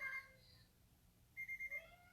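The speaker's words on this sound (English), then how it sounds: "I have no idea why it's beeping." A small kitchen thermometer beeps: a tone at the start, then four quick high beeps in a row, close and fairly quiet, with no talking.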